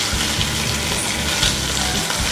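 Tandoori chicken sizzles steadily in a pan over a gas stove as it is flipped, a dense, constant hiss of frying close up with no talking.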